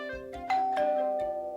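A doorbell rings with a two-tone ding-dong chime, the tones ringing out clearly and lingering as they fade.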